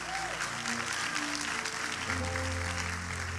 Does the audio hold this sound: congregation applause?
yes